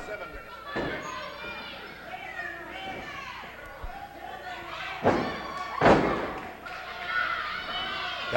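At a 1980 professional wrestling match, a wrestler slams down onto the ring mat with a couple of heavy thuds that rise out of a steady crowd roar, while an announcer talks over the action.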